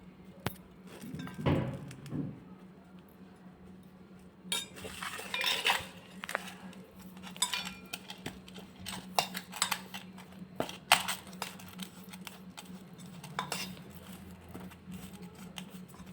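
A spoon clinks and scrapes against a dish while vegetable stuffing is mixed, with irregular light metallic taps and a faint steady hum underneath, no talking.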